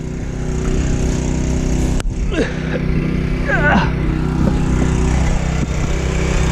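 A small engine on maintenance equipment, started using the choke, runs with a steady loud drone throughout, while people talk briefly over it.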